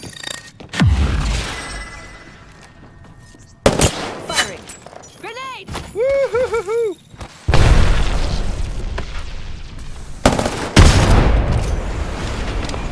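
Video game gunfire in Apex Legends: booming shots, explosions and rapid bursts of automatic fire crack through in loud, repeated volleys. They are broken by short pauses, warbling ability effects and brief in-game voice lines.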